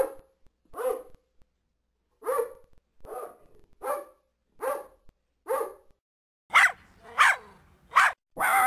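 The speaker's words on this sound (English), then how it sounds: "Are those your dogs out here? They sure are raising a ruckus." Bulldogs barking outdoors in a backyard, a string of sharp, separate barks with short gaps, the last few louder and closer.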